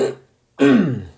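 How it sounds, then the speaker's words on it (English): A single throat clearing, a rough, gravelly rasp close up after a moment of silence, lasting about half a second. "Let me clear my throat, excuse me."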